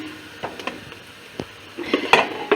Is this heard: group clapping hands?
no